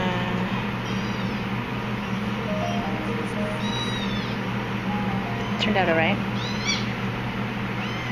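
Kittens meow in a potter's studio during a kiln opening. Several high, rising and falling mews come through clearly around the middle, with a steady hum behind them and a person speaking briefly.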